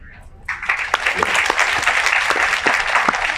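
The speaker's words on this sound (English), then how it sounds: "So give yourself a round of applause." Applause from a seminar audience, starting abruptly and holding as a steady, fairly loud wash of clapping with a few sharper individual claps standing out.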